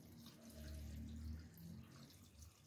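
Water runs from a tap into a cooking pot for boiling cabbage and beans with a little salt, a soft steady trickle heard faintly with no one talking.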